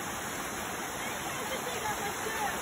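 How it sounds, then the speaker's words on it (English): Steady rushing water of a waterfall at Merlin's pool, a broad even roar running unbroken throughout at constant level, with no voices or other sounds standing out above it. "we made it to Merlin's pool, the waterfall."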